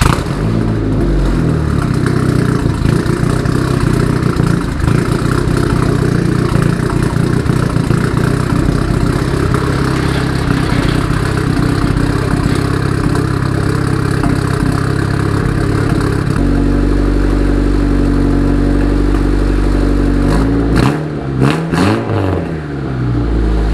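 Turbocharged Honda Accord engine running on its first startup through a 3-inch straight pipe exhaust, a loud, steady, raspy drone with a shift in tone partway through and a couple of short revs near the end.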